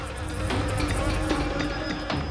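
Bees buzz near a hive in a house, a dense, continuous insect drone filling the space with brief rising swells.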